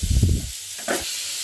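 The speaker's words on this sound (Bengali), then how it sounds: "জাস্ট এইভাবে তাওয়াটাকে একটু নাড়ালেই দেখবে চারদিক ঘুরিয়ে ঘুরিয়ে এটা ভালো করে ফ্রাই হয়ে যাচ্ছে" Chicken kathi kebab frying on a tawa over a medium-low flame, a soft broadband sizzle with low thumps early as the pan is moved, then a brief hiss near the end.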